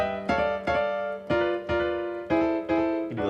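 Piano playing tight gospel chords with quick slides into them, a series of about eight struck chords in uneven rhythm, clear and close with no talking.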